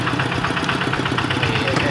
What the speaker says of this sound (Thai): ตอนนั้นกำลังขี่รถ